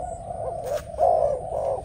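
Malaysian decoy dove cooing close by, a few soft, throaty coos with short pauses between them over faint background hum.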